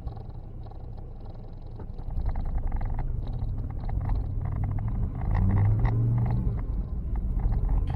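A car fitted with a supercharged Kubota diesel engine drives steadily, its low, constant rumble and drone running throughout, swelling slightly louder partway through.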